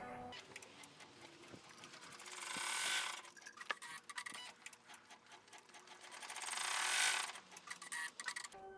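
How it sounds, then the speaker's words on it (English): An embroidery machine stitches an outline on vinyl for in-the-hoop diamond starburst earrings. The needle chatters in a rapid mechanical rhythm, with two longer whirring surges as the hoop moves, close and with no talking. "So pop it back in the machine, and it's going to do our outline little stitch,"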